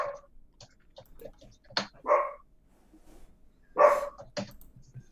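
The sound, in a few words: dog barking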